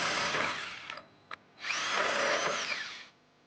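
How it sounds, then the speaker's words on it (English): Two bursts of a drill running a 1 1/8-inch hole saw through the metal body of a 2020 Jeep Renegade, the first about a second long, then a brief pause and a tap, then a steadier, longer drilling run. "we're going to be using an 1 1/8" hole saw to create 2 access holes"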